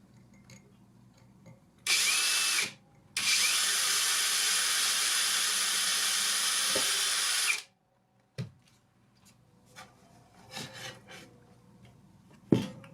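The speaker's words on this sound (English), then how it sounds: "use a tiny bit drill just to drill out, and then you'll increase the size later" A small bit drill bores a tiny pilot hole into guitar body wood, giving two loud, steady bursts of whine, a short one then a longer run of about four seconds. Faint clicks and handling knocks follow.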